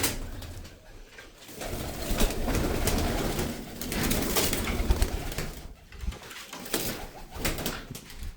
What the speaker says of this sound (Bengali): এই যে 5টা কবুতর উড়াবো আজকে